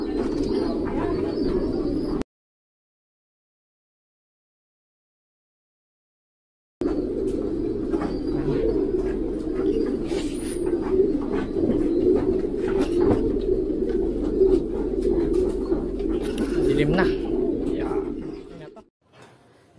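Racing pigeons in a loft coo steadily in a low, continuous murmur, with a few chirps and a stretch of silence partway through; soft human speech can be heard under the birds.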